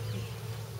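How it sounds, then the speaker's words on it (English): Honey bees buzzing around an opened hive during a check-up with a new shallow brood box, a brief, close, steady droning hum. "She'd be in the middle of a cluster of bees."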